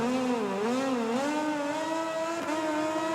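In the MotoGP 20 racing game, a motorcycle engine revs and accelerates away from the start, a loud, continuous whine that swoops up and down in pitch before climbing steadily, heard alone without commentary.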